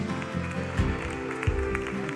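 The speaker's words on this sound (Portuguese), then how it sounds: "dê um aplauso ao nosso Deus" A church congregation applauding, heard as a dense, steady wash of clapping with faint voices mixed in, filling the whole short stretch at moderate level.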